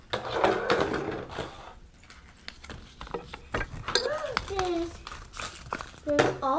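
Plastic bag crinkles and rustles in short bursts as a Frozen Disney Doorables surprise figure is unwrapped, with children's voices talking over it.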